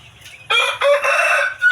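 A rooster among free-range native village chickens crows loudly and close by in one drawn-out call, with no voices around it.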